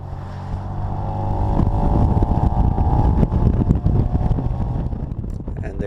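A 4-speed Austin Healey Sprite engine revs hard and steady up to about 4,000 RPM with a rising drone, heard close with wind rush over the microphone.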